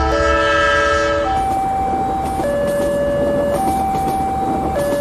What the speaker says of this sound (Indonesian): Palang perlintasan kereta api yang turun dan sinyal berbunyi adalah peringatan bahwa kereta sedang melintas